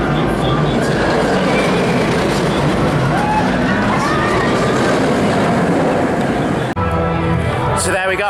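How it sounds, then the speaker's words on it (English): Steady rushing roar of the Colossus ten-looping roller coaster at Thorpe Park, ridden from near the back of the train, with constant wind and track rumble throughout and a brief break near the end. "So I'm going to go for a ride on Colossus now, the world's first 10 looping coaster that opened here in 2002."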